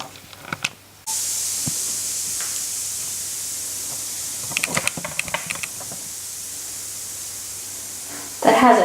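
A Lush Shoot for the Stars bath bomb fizzes in bathwater with a steady hiss after a splash, broken by brief clicks and knocks, then a louder splash at the end.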